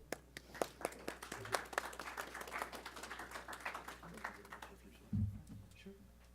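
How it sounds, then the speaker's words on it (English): Scattered claps from a small audience at a school district board meeting sound out as sharp, uneven hits that thin out over time, mixed with nearby talking voices and a low thump near the end. "Let's give him a round of applause."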